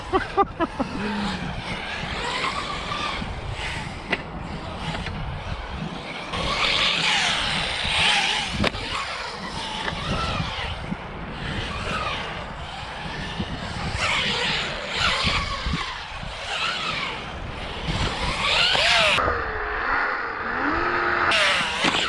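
An ARRMA Typhon GROM RC car with a 6500kv Hobbywing motor whines in rising and falling bursts as it revs and races outdoors, its sound shifting in distance, with a few faint voices in the background.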